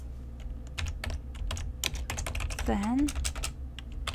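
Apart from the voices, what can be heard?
typing VBA code on a computer keyboard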